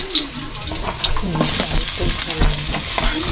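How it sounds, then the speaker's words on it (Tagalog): Garlic and other ingredients sauté in a pan with a steady, loud sizzle, punctuated by scraping stirs and clinks of a utensil against the pan. "So guys, ginisa na po natin, ginisa na natin yung mga sangkap."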